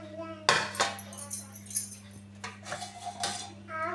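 Fried cauliflower and onion slices being served onto a plate, with a steady hum underneath as metal utensils clink and scrape against the dish in several close, bright strikes.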